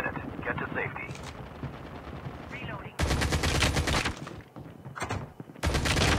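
Video game gunfire with shotgun blasts: dense rapid bursts of shots, loud and close, cutting in and out in sharp sections with a brief pause before the last volley.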